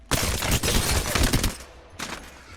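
Hip-fired R-301 rifle in Apex Legends, a dense loud burst of rapid automatic shots for about a second and a half, then a brief pause and a short second burst, with no talking.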